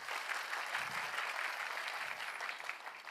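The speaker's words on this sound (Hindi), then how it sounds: "ताली बनती है भाई।" Soft, distant applause from an audience at a talk on digital payments, a brief, even wash of clapping lasting a few seconds with no voices over it.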